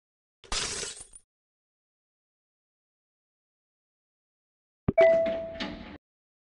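Glass window shattering in the Pink Monster Life Android game: a sharp breaking burst, a stretch of silence, then a second crash with bright clinking debris that quickly fades.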